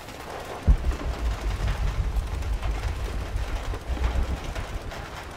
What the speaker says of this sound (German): Der Regen ist unnatürlich.